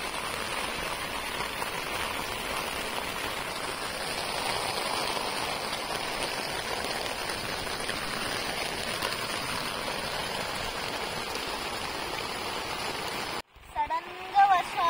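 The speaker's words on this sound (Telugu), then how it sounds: "సడన్గా వర్షం వచ్చిందనమాట," Sudden rain falling at a campsite near a pond, a steady broadband hiss of drops lasting several seconds before cutting off abruptly, followed by brief handling noises.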